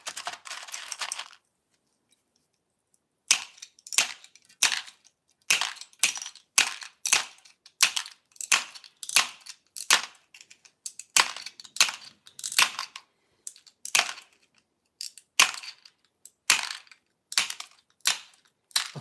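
Clear fusing glass is chopped into frit with a long series of sharp, dry cracks and clacks, struck in a fast, uneven rhythm close by, with a brief pause after an opening rattle.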